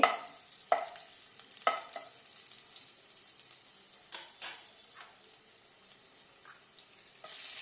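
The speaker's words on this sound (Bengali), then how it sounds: "তেলটুকু থাকলো তার মধ্যেই যে রসুন কুচি করে রেখেছিলাম, ওই রসুন কুচি দিয়ে একটু নাড়িয়ে" Chopped garlic frying in leftover oil in a pan while being stirred, a faint steady sizzle broken by several sharp scrapes and clinks of a utensil against the pan.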